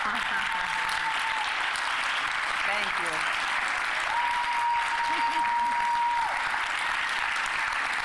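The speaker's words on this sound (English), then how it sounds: "Let's give Nikole and Robin a round of applause" Audience applause at the close of a 1619 Project talk at Xavier: a steady, dense wash of clapping across the whole stretch, with a person speaking briefly over it.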